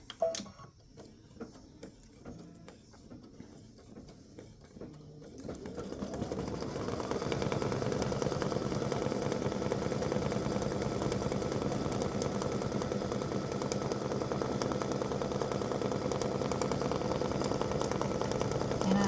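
A home embroidery machine stitches a Band-Aid appliqué design, starting with quiet handling and clicks before settling after about six seconds into a steady, loud, continuous mechanical whir with rapid needle ticking.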